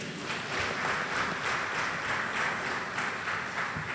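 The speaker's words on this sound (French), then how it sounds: "Vous devez vous applaudir vous-même." A crowd at a morning meeting applauds itself, with steady, dense clapping held at an even level throughout, moderately near and with no voices over it.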